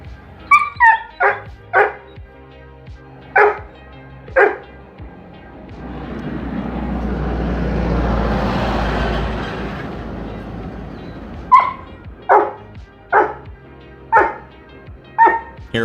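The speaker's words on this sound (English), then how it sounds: "Hear it whimpering?" A dog barks in short, sharp bursts, pauses while a low rumbling swell rises and fades, then barks repeatedly again, with whimpering yips among the barks.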